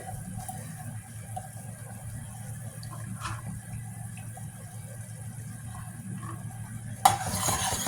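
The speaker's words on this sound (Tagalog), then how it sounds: "Pwede natin pakuluan saglit. Yung ginger, bawang, tsaka sibuyas." Ginger, garlic and onion boil briefly in a pot for papaya atchara, a steady low bubbling simmer with a few faint utensil clinks and a sharper clatter near the end.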